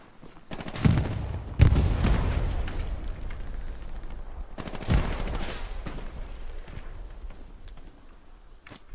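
Explosions and gunfire in the World War II shooter Hell Let Loose, with a heavy boom near one second, another just after, and a third around five seconds, each rumbling out over a low battlefield din.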